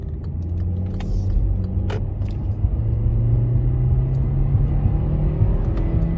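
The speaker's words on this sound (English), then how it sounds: "On the gas a little bit there, just upshifted." A Hyundai Elantra engine hums steadily and rises slightly in pitch as it accelerates and upshifts, with a continuous road rumble underneath and no voices.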